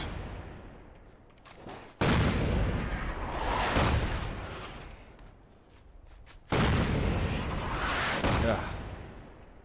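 Artillery strikes in Fallout 4 land as two heavy, loud blasts, each opening suddenly and rumbling for several seconds before fading, the second arriving about four seconds after the first.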